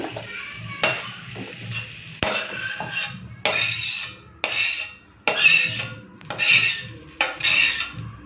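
A metal spatula scrapes and clatters in an iron wok as cooked bottle gourd with shrimp is scooped out. Several rough scraping strokes come in uneven bursts with brief pauses between them.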